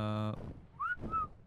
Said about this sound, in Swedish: Nu visslar du följ mig.